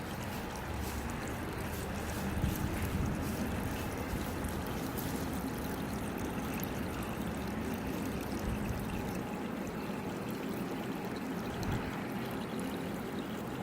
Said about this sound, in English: I'll let that go until it fills up the hole with water all the way